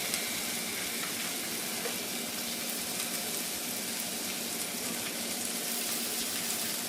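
Oil sizzles in a hot wok over medium heat, a steady, dense hiss that holds evenly from start to finish with no voices over it.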